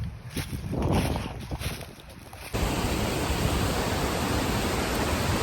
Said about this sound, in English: You can almost hear the waterfall from here.